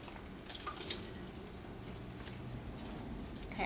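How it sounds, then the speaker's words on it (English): Vinegar is poured off raw chicken pieces into a sink, a soft splashing trickle with a few drips, close and fairly quiet, no voices. "now I'll dispose of the vinegar"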